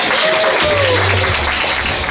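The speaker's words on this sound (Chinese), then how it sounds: "我们给他最大的掌声，好不好？" A crowd at a high school dance battle gives a judge a round of applause, a continuous broadband clatter of many hands over a low hum of voices and background tones.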